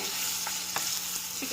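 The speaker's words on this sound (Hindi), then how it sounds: "अब इसको हमको अदरक लहसुन के साथ एकदम अच्छे से फ्राई कर लेना है" Chicken pieces frying with ginger and garlic in a pan, a steady soft sizzle with a couple of faint stirring clicks, no voices.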